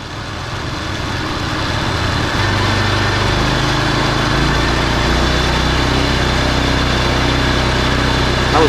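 New 10.2 horsepower engine on a wood chipper running steadily after a full day of work, a close, loud, even drone that settles into a smooth idle after a slight shift early on.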